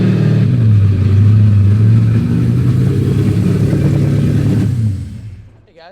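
A silver Fox body Mustang with nitrous, its engine roaring loud and close as a heavy, sustained drone that holds for about five seconds before cutting off and fading away.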